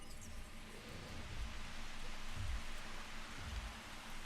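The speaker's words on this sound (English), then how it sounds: "just seeing him walk through these hills in the rain" Soft, steady rainfall in the video game Jurassic World Evolution, faint and hissing, with three low heavy thuds spaced about a second apart beneath it.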